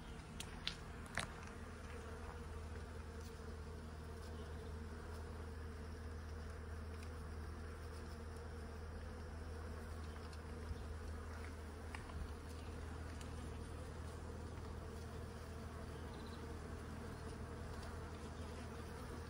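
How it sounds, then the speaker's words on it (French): Many paper wasps buzz continuously close by around their nest, a dense steady hum with occasional louder passes near the microphone and no voices. "Il y a du monde, donc il y a de la guêpe poliste essentiellement"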